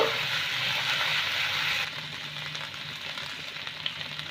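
Ginger paste, fennel and green chili paste sizzle in a hot pan while cooking a milk-fennel pointed gourd dish, a steady close hiss that is loud at first, then drops to a softer crackling fry with occasional small pops.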